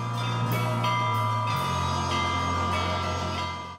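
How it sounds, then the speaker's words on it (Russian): Church bells ringing out over the city of Mogilev in the evening, a dense, sustained peal of overlapping tones and repeated strikes that carries on steadily throughout, with no voices. "У один из вечеров над Могилевом развелася музыка перезвона."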